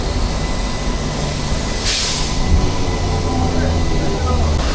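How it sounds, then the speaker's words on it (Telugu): The Shatabdi express from Mumbai rumbles past near Wadi Junction, a steady rolling rail noise with a short hissing burst midway and low wheel drone throughout. "ఇక్కడ ట్రైన్ కనిపిస్తుంది చూసారా? ఇదే ట్రైన్ అనుకుంటున్నారు. శతాబ్ది, ముంబై నుంచి వచ్చిన శతాబ్ది అనమాట."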